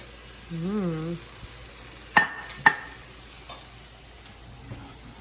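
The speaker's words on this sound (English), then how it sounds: "we add all of the vegetables that we have for a second to our onion" Vegetables tip into onions frying with turmeric for a lamb stew, then get stirred; there is a soft background sizzle, two sharp scraping knocks from a utensil, and a brief tonal squeak near the start.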